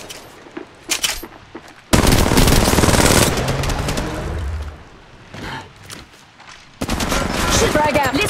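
Rapid automatic gunfire in the Apex Legends video game, loud bursts with a long sustained volley in the middle and another burst at the end, mixed with game effects.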